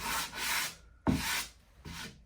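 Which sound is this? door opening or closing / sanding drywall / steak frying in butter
sanding drywall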